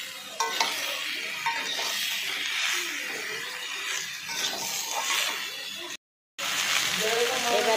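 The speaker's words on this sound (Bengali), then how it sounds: "এবারে কেটে রাখা কিন্তু কয়েকটা সবজি দিয়ে দিচ্ছি, আলু আর ঝিঙে দিয়ে কিন্তু আবার ভালো করে একটু নাড়াচাড়া করে নিচ্ছি।" Cubed potatoes and ridge gourd are stirred in a frying pan, with a steady hiss of frying and soft scraping that continues throughout, broken by one brief gap.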